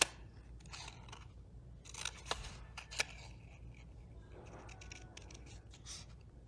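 Scissors snip through paper while a shoe template is cut for a gnome decor craft, giving a few quiet, close cuts with crisp bursts spaced over several seconds.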